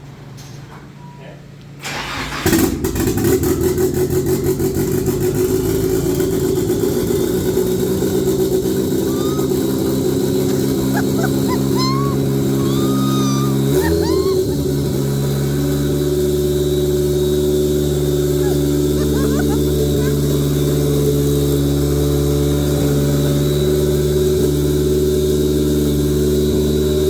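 A Nissan 300ZX's swapped SR20 engine cranks and catches, then runs loud and raw with no exhaust attached, a harsh steady idle; a brief rev midway, and faint voices now and then.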